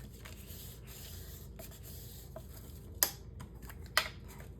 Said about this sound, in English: I can use my bone folder to burnish this down